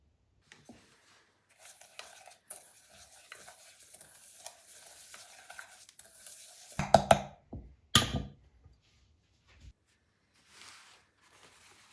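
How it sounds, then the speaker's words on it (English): Olive oil, salt, black pepper, garlic granules, rosemary, thyme and smoked paprika are stirred into a loose paste in a bowl, with soft wet scraping and clicking of a spoon, mostly quiet and a few louder clatters midway. "Mix everything together till it forms a loose paste."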